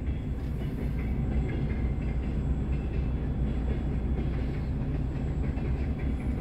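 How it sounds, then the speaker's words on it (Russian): A long freight train of flatcars for containers rolls past a level crossing in the Moscow region, giving a steady, loud, close rumble with wheel clatter that fills the whole clip, with no talking. "Ну вот как раз у нас и грузовой состав."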